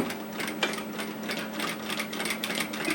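A sewing machine stitching fabric for an apron, with a rapid, even mechanical whir and needle clatter running continuously at close range, no talk over it.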